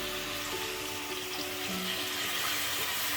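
Water goes into a hot pan of frying lamb chops, giving a loud, steady, close sizzle and crackle that runs without a break, with no voices.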